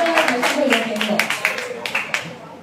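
An audience in a music restaurant claps during a live band show, with a quick, even run of close claps under people talking.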